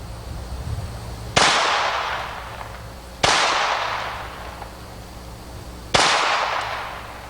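Three sharp gunshots at a shooting range, each a loud crack followed by a long fading echo, spaced a couple of seconds apart over a quiet background.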